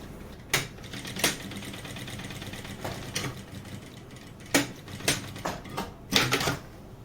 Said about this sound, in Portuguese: fazemos outra vez agora uma costura pé de máquina